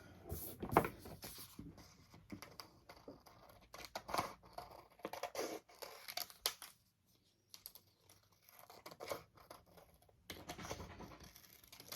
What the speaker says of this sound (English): I don't know why I'm using these scissors.